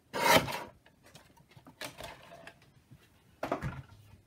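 A paper trimmer slices half an inch off a card in three short rasping strokes, the first the loudest, with quiet pauses between them.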